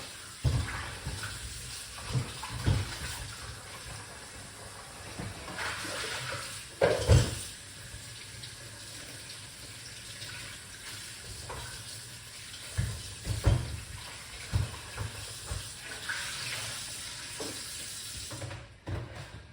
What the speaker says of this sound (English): So we'll wash them off